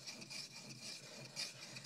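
Knife blade rubbed back and forth on a 6000 grit whetstone, with faint, soft rasping strokes in a steady repeating rhythm, close and quiet, with no talk.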